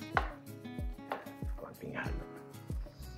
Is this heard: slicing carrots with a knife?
yes